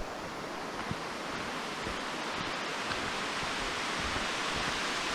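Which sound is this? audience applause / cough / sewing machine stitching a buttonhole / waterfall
waterfall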